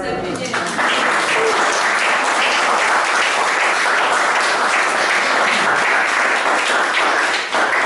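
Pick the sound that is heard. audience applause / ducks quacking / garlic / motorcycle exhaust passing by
audience applause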